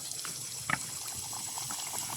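Oil bubbles and simmers steadily in a pot for frying Diwali snacks, a soft continuous hiss with faint pops and gurgles, heard close up without any voices.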